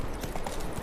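Roach the horse clip-clops in The Witcher 3, a quick, soft run of hoofbeats at a gallop over a faint background.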